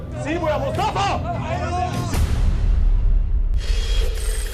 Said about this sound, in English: Did you hear that? The machine gun loading.